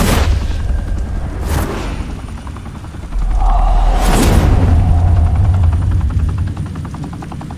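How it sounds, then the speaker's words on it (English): Gunfire and booms erupt in a Batman Telltale video game scene, with loud sharp blasts over a steady helicopter-like roar, close and intense. "Open fire!"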